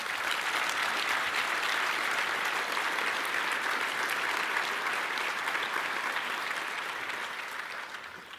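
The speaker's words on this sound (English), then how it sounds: "give a big round of applause to our board of directors" Broad, steady audience applause at an association's 2016 annual meeting honors the board of directors, dense clapping holding evenly before slowly fading out near the end.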